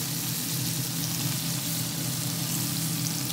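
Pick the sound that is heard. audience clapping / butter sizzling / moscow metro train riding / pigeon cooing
butter sizzling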